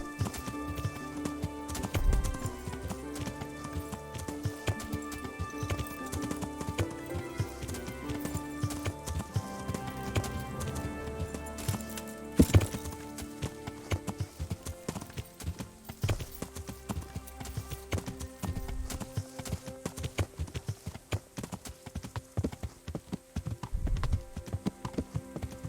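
Horse hooves while riding in Kingdom Come: Deliverance, a continuous fast clip-clop under layered game music, close and steady throughout.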